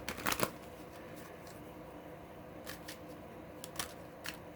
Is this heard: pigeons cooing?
no